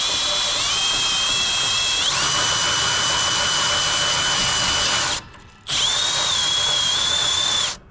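A power drill cranks a trailer jack, whining steadily and shifting pitch as the load changes, then stops briefly and restarts for a second loud run before cutting off.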